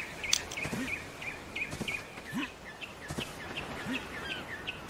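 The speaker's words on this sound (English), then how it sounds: "Oh, look, another bird." Birds in the Ark Survival Evolved game chirp and tweet in short repeated calls over a steady ambient bed of rustling and insect-like noise, moderately loud with no talk.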